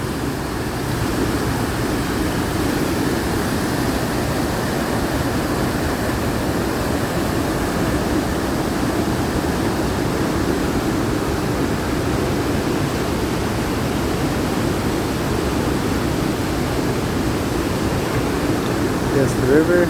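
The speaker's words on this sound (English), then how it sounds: "Just the river flowing away." A river flows steadily past ancient trees in a Pacific Northwest forest, a continuous broadband rush that stays even and moderately loud throughout without breaks.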